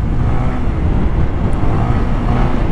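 A Honda PCX 160 scooter with its stock exhaust pipe rides along, giving a steady, fairly loud broadband engine drone mixed with rushing wind noise throughout, with no talking.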